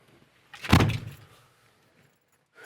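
A car door on a 1965 Ford Galaxie opens with a single close, firm mechanical clunk and latch rattle that fades within a second, followed by quiet.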